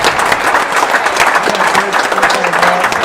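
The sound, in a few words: crowd applause after a tennis final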